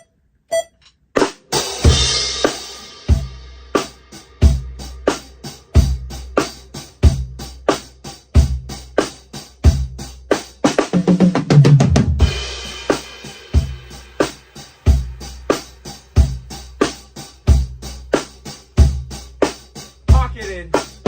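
Drum set playing a groove into a fill deliberately played out of the pocket, with loud regular kick and snare hits, dense cymbal wash and a busier tom-heavy burst near the middle, all alone without talk.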